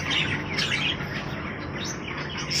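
Small fancy birds kept in a breeder's cages chirp and tweet continuously, many high calls overlapping at steady moderate loudness with no talk.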